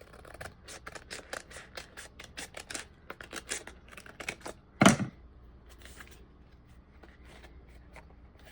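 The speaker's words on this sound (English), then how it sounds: "And for these, I'm just going to use my scissors actually." Scissors snip through paper for a handmade notebook in a rapid run of crisp, close cuts. A single louder knock breaks in partway, and then only sparse, quieter snips follow.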